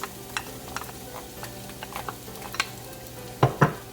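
Garlic and onion sizzle quietly in a pot for chili while a utensil stirs with light, scattered clicks, ending in two louder scraping clatters near the close.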